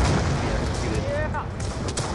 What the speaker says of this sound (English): We're gonna lag out from all the explosions.